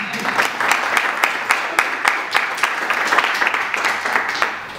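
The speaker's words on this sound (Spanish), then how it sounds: "¡Aplausos!" Audience at a sailing federation board presentation bursting into applause, many hands clapping loudly with distinct sharp claps standing out in an uneven rhythm.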